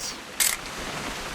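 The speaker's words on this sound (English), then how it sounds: "Just want to get a shot of you, Dawn, then we can take off." Camera shutter clicking once in the video game What Remains of Edith Finch, a sharp, bright mechanical snap up close over a quiet background.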